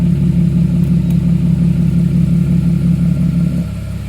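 A Porsche 997.2 idles with its valved sport exhaust closed, a loud, steady low burble with an even pulsing rhythm that drops slightly in level near the end.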